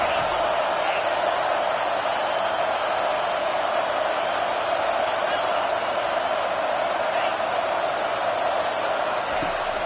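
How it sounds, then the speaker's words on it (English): A college football stadium crowd roars loudly and continuously while the home defense faces a third down, a dense, unbroken wall of noise with no pauses. "Listen to this crowd just shaking the girders of this place, trying to help their defense."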